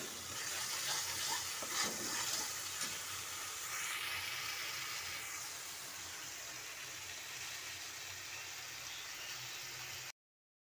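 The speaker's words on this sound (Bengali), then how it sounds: "যতক্ষণ না তেল ছেড়ে যাচ্ছে ততক্ষণ একটু রান্না করে নেবো নাড়াচাড়া করে" Mustard paste frying in oil in a pan for an okra dish, with a steady soft sizzle and occasional stirring scrapes, close and continuous, no talking.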